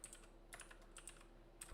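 Computer keyboard typing, a few short bursts of faint, close key clicks separated by brief pauses, with no voices.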